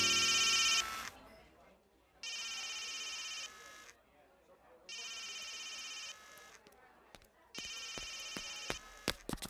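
A telephone rings in three long bursts separated by pauses, bright and electronic, with faint clicks and quiet background between rings.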